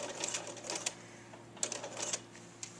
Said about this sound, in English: you want to hold your cord as you're sewing